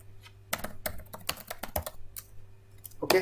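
Fingers type on a computer keyboard while running Python, with a quick run of close, crisp key clicks in an uneven rhythm that ends with a firmer press of the Enter key, and no one speaks.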